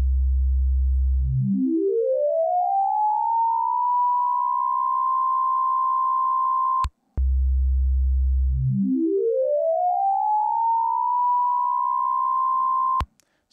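A Sequential Pro 3 synthesizer plays its 16 Signs wavetable twice: a low buzzy tone sweeps rapidly upward into a steady high sustained pitch, each note ending in a sharp click, loud and alone.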